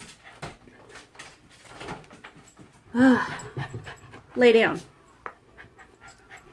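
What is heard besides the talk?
pet dog whimpering and panting indoors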